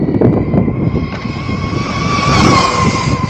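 A Losi 22S 1/10 scale 2WD RC truck drives outdoors with a steady high electric motor whine that climbs in pitch as it accelerates, over continuous gravelly tire and wind rumble, loud and close throughout.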